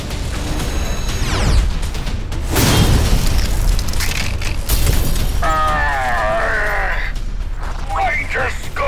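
Loud booming blasts from a mecha's weapon in an anime sci-fi short, with a sharp impact near three seconds amid dense effects, metallic whines and a rising sweep, all under ongoing spoken dialogue.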